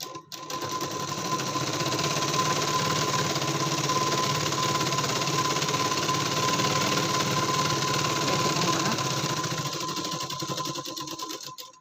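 An electric sewing machine runs without pause for about eleven seconds while stitching a katori blouse, giving a loud, close, even mechanical whir that starts and stops abruptly.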